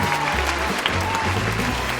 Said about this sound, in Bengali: আরে ঠিক উত্তর দিয়েছে, হাততালিটা দিন